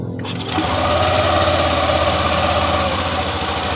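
A Yamaha NMAX 155 scooter starts and idles with its CVT running, giving a steady, close mechanical whirr with a rattling vibration that holds level after a brief quiet start.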